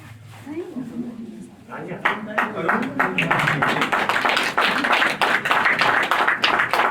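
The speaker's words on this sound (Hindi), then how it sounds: "वो टीम तो ताली बजाती रहे तालियां तो बजती रहनी चाहिए" An audience claps at a retirement party while a winning team receives a trophy, starting as scattered taps and building into steady, close, rhythmic applause that continues to the end, with voices heard at the start.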